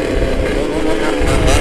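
A Yamaha RX King motorcycle engine revs loudly and steadily at close range, a continuous throaty roar that swells toward the end, with a voice briefly heard over it.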